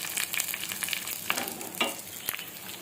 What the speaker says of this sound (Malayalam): ഇതിലേക്ക് കുറച്ച് കടുകും ജീരകവും ഇട്ട് കൊടുത്ത് ഫ്രൈ ആയി കഴിഞ്ഞു